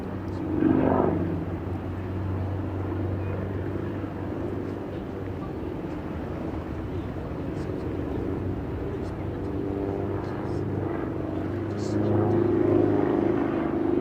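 An aerobatic display plane hangs nose-up like a helicopter over the Farnborough International airshow in 1998, its engine a loud, steady, droning roar that swells near the end, with a commentator talking over it.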